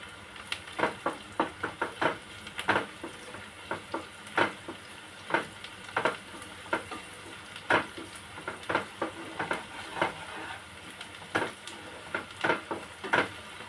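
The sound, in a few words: onions frying with salt in a pan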